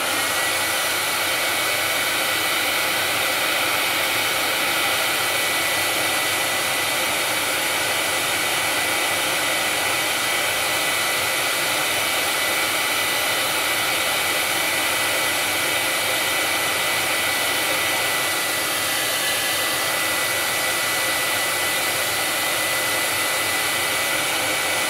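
A hair dryer blows steadily to dry paint on a custom order piece, a loud, close, unbroken whoosh of air and motor hum that holds constant throughout with no talking.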